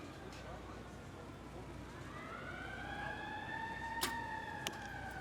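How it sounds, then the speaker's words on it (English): Wailing fire engine siren at an outdoor archery gold-medal match in Medellin, rising and sweeping over steady crowd and ambient noise, with a couple of sharp impulses near the end. "That fire engine may be for him."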